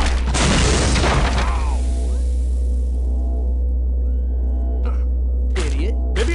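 A rocket launcher blast in the video game Postal 2: Paradise Lost gives a loud, close boom with a crackling burst that decays into a low rumble, followed later by a couple of sharper impacts.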